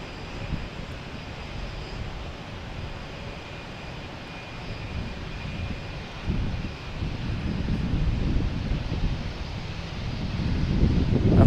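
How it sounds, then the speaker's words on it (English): A JetBlue Airbus A321 jet arriving at Boston Logan from LAX, its engine roar building steadily from a distant rumble to a louder, nearer rush with wind buffeting the microphone. "we have JetBlue coming in, an A321 from LAX"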